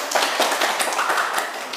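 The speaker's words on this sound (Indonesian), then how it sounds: "kita berikan tepuk tangan dulu" A class group in an electronics lesson on a tone control circuit gives a round of applause, a brisk patter of hands clapping close by and fairly loud, with no speech.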